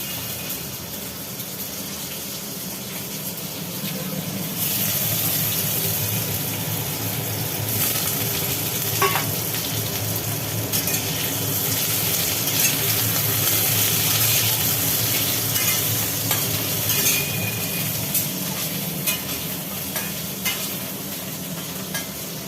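Wet potato pieces fry in hot oil in a pan with a steady, loud broadband sizzle that swells as more pieces go in, plus occasional stirring clinks; no voices.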